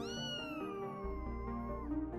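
A kitten gives one drawn-out meow that falls slowly in pitch, close and fairly quiet, with no one talking over it.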